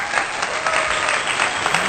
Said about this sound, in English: clap that before we begin.